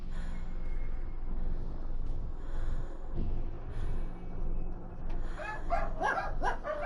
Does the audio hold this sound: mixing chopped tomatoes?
no